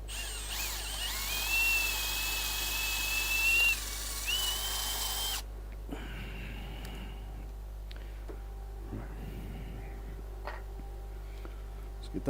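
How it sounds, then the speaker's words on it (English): A power drill drills out wood at a woodturning workshop, a steady high whine for about five seconds that then stops, leaving quiet room noise and faint handling. "let me just drill this out"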